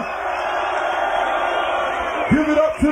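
A London hip-hop concert crowd roars and cheers in a dense, loud wall of noise, with individual shouts and whoops rising toward the end.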